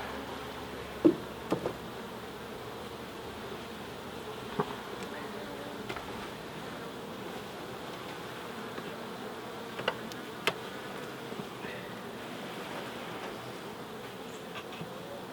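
Honey bees buzz steadily around an open beehive during a hive check, a close, continuous drone with occasional clicks and handling knocks.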